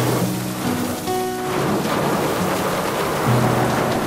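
Heavy rain falls in a steady, dense hiss while thunder rumbles low underneath, the downpour continuous and loud throughout, with no talking.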